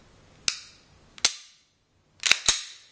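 Sharp mechanical clicks of a handgun trigger during dry fire practice at home, four distinct snaps spaced across the moment, the last two close together, with no voices.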